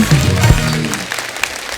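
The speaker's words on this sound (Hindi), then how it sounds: "जोरदार तालियां हो जाए हमारे मेहमानों के लिए एक बार।" A television comedy talk show studio audience applauds the film's director and producer as they are welcomed, a burst of clapping mixed with a brief voice near the start.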